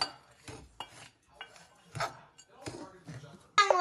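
A spoon scrapes and clinks against a pan while cashews and raisins are stirred for laddu, intermittent metallic knocks and rasps at close range with quiet gaps, ending in a sharper clatter.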